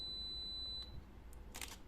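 Fujifilm X-T20 mirrorless camera on a two-second self-timer gives a steady high electronic beep that stops, followed by a brief soft shutter click, heard close up with no talking.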